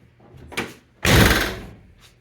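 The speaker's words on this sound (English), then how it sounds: "So let's close the door and see what it looks like." The door of a third-generation Chevrolet Camaro or Pontiac Firebird swings shut with one solid thump, close and fairly loud, after a light mechanical click and rustle from the latch.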